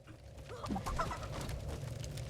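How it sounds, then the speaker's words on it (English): Chickens in Guild Wars 2 give a few soft clucks and coos over a steady game ambience hum, fairly close and not loud. "I have to keep the chickens to get their feathers."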